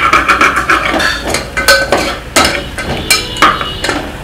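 Spices and vegetables frying in oil for a vegetable pulao, with a steady sizzle broken up by repeated scraping and clinking of a spoon stirring the pan, close and fairly loud.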